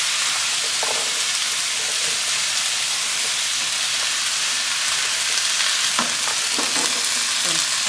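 Cut string beans, potatoes and carrots fry in a very large skillet with a steady loud sizzle, and a utensil scrapes and stirs through them with occasional clacks against the pan.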